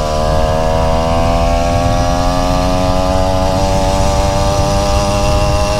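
A motorcycle engine with a freshly replaced clutch runs steadily and loudly, a continuous buzzing drone with a slight pitch shift partway through and no talk.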